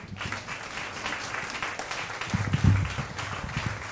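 A theater crowd at an Atlanta magic night applauds as two volunteers are called up to the stage, a dense, steady wash of many hands clapping that swells slightly toward the end, with no voice over it.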